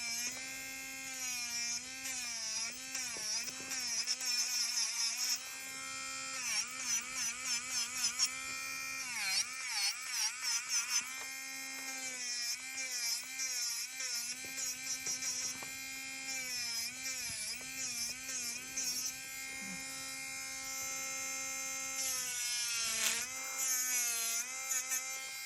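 Electric nail file drilling at acrylic dip nails during a color change, a steady high-pitched whine with bits bearing down in repeated short passes and shifts in pitch, close and continuous with no talk.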